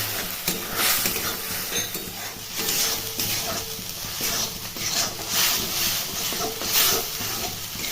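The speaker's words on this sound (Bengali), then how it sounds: "এর সাথে দিয়ে দিতে হবে কুচনো ক্যাপসিকাম, এটাকেও এর সাথে ভালো করে কষিয়ে নিতে হবে।" Spice paste and chopped capsicum sauté in oil for ghugni, with repeated rhythmic spatula scrapes and stirring strokes over a continuous sizzle, close and fairly loud.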